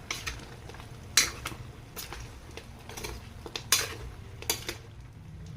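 Adobo (adobong bihag) being stirred in a pot, with a spoon clanking sharply against the metal several times at irregular intervals over a quiet low kitchen background.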